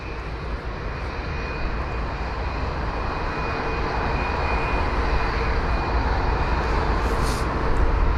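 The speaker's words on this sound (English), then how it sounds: "The Aer Lingus 320 Neo is on the move now, heading to Cork, flight number EI715, and it is this one here." Aer Lingus A320neo airliner taxiing at London Heathrow, a steady engine roar that slowly builds in loudness over about eight seconds, with a faint high whine on top and no talk.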